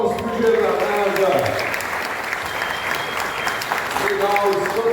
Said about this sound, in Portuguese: Salve de palmas para o engenheiro da NASA.